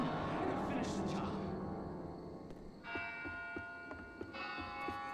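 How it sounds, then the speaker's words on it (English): Bell rung inside the Left 4 Dead 2 video game, a bright metallic ringing with strong sustained overtones that swells twice in the second half, over a dense bed of game noise and scattered voices. "I'm gonna ring this bell. I'm gonna ring the bell."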